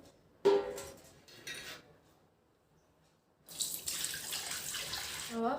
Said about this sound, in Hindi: कढ़ाई में डाल ले वो पानी